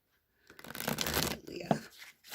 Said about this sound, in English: I'm just going to shuffle the deck 3 times, cut, and draw a card